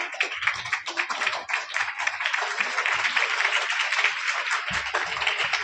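A school seminar audience applauds to welcome a class 7 student, dense steady clapping from many hands lasting several seconds, with faint voices underneath.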